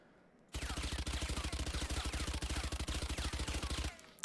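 Sustained automatic gunfire in Valorant, a rapid, evenly spaced burst of shots lasting over three seconds, loud and close, starting abruptly and cutting off cleanly with no talking.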